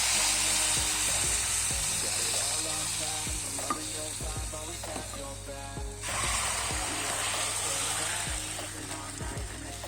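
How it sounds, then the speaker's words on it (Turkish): Mint sauce poured into hot oil in a pan for soup, crackling and sizzling steadily up close with scattered pops and stirring clatter. "Yağımız iyice kızdıktan sonra üzerine nane sosunu ekliyorum"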